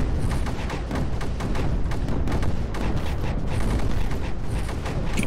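A dense, unbroken barrage of explosions and rapid booms from the strategy video game Creeper World 4 rolls on at a constant loud level with crackling impacts throughout.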